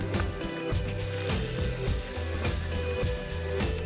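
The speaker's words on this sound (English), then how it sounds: "I started to drill large holes in the center of each block" A large drill bit grinds steadily through wooden blocks, with a ratcheting, rumbling churn that pulses as the bit bites in, close and fairly loud.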